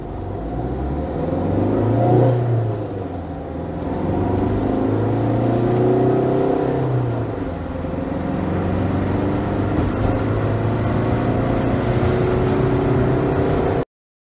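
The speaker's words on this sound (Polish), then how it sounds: "zobaczmy jeszcze, jak w ogóle ten samochód przyspiesza" A heavily loaded Fiat Ducato van with the 2.3 Multijet 130 hp engine and ComfortMatic automatic gearbox accelerates from inside the cab, its engine drone rising steadily with audible gear changes, no talking.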